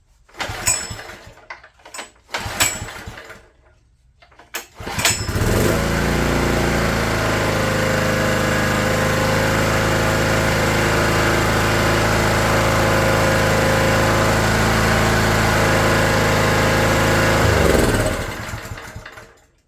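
A Honda EG1400Z generator that had been bought in non-running condition starts after a few rough pulls and sputters. It then settles into a loud, steady engine drone up close before it cuts out near the end.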